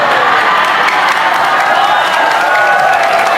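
Loud, dense crowd noise of clapping and cheering fills a sermon hall during an end-of-year talk by an Indonesian preacher, a continuous roar with scattered shouts throughout.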